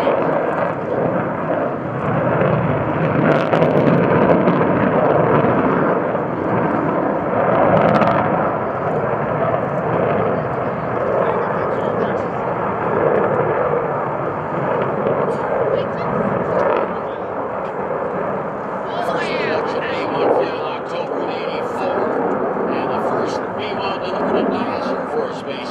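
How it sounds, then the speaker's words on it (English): Rockwell B-1B Lancer bomber jet making a combat takeoff and climb over an airport, a loud sustained engine roar that stays steady throughout, with a narrator talking over it. "you're witnessing a combat takeoff and climb"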